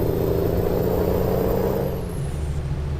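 A truck in Euro Truck Simulator 2 hums with a steady, loud, close engine drone and low rumble throughout, shifting slightly in pitch near the end, with no talk over it.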